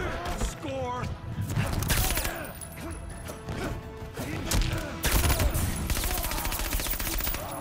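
Gunfire rattles in a video game as rapid bursts of shots crack and clatter throughout, close and busy, with people talking excitedly over the shooting.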